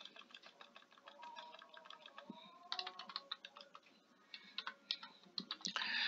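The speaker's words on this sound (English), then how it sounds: "you just can edit the question by just clicking on it." Quiet keyboard typing and mouse clicking come from a computer while a Google Form is edited, with irregular bursts of taps that grow denser toward the end and no speech over them.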